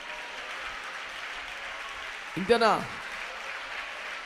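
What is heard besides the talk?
congregation clapping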